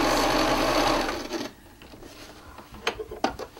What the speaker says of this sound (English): You'd sew this along the line of where your seam's going to be.